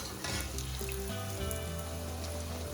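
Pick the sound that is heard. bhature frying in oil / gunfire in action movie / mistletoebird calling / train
bhature frying in oil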